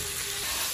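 Bell pepper frying and stewing in a new pan gives a steady, close sizzle of hot oil with no voices over it.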